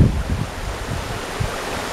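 Stoney Creek water flows and rushes steadily around an island and past a basswood tree, a broad outdoor wash mixed with wind noise.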